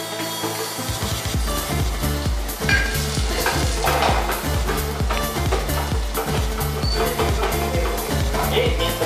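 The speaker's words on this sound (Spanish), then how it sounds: "Y mientras se sofríe, nuestro ajo y nuestra cebolla," Garlic and onion sautéing in a pan, a steady loud sizzle with regular rhythmic stirring strokes throughout, a voice speaking over it.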